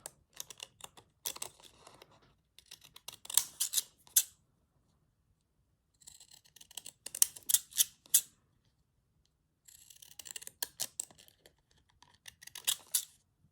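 Cheap scissors snipping out paper daisies for a junk journal: quick bursts of small crisp cuts in three clusters, close and quiet, separated by silent pauses.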